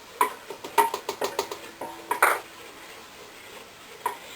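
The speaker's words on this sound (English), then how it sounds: "we're going to want to really stir this well so it dissolves" A spoon stirs baking soda into liquid in a container for homemade dish soap, giving a quick series of light clinks and taps against the side, then a pause and one last tap.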